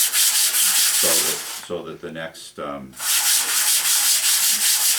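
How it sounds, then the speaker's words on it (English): Light hand sanding of fiberglass glass cloth with 400-grit sandpaper, a loud, close, steady rubbing rasp that pauses while someone speaks briefly in the middle. "after I've done this really light sanding, like I just did here, of the glass cloth"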